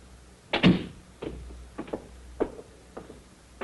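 A door closes in an old mystery radio drama with a firm thunk, followed by a few softer knocks and footfalls in a quiet room, with no speech.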